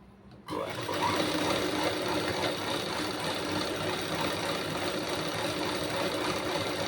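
Sewing machine stitching the lining of a blouse, kicking in after a short quiet moment and then running in a fast, steady, continuous whir nearby.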